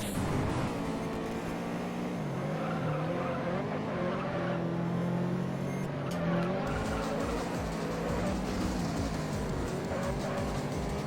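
A car in the racing video game Juiced grinds and scrapes along a wall, with a steady engine drone and tire squeal running under it throughout, loud and continuous.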